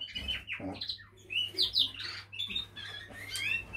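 A moulting canary attempts to sing in an aviary, giving faint, broken chirps and squawky warbles scattered irregularly across a few seconds, with some distance to the bird and no talk over it.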